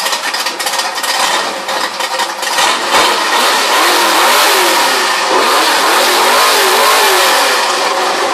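A Ford Mustang engine revs hard at a Mustang and US cars meet in Trenčín during an exhaust sound level measurement, a loud close roar with rising and falling revs that holds steady throughout.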